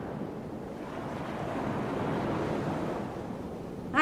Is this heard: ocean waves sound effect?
yes